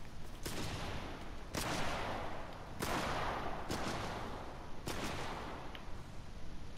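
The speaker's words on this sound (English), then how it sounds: "I'm getting my shotgun hits" Shotgun blasts in the battle royale game Cuisine Royale, five loud sharp shots fired at irregular intervals over a constant wash of in-game background noise, with no talking.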